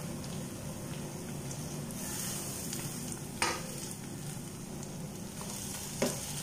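Steady, close sizzle of tomatoes sautéing with ginger, garlic and curry leaves for a beef curry, with a couple of sharp clicks from stirring.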